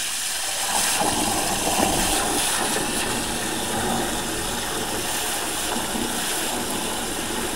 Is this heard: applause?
no